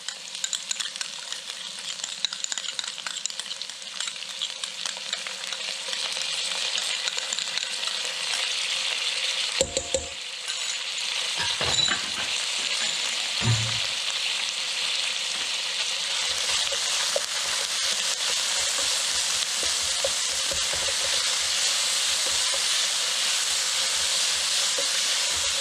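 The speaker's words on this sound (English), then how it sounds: "I've got the oil hot in my saute pan. I'm going to add the onion." Onion and garlic frying in hot oil in a sauté pan, a steady close sizzle and hiss that runs throughout, with a few clinks and stirring bumps partway through.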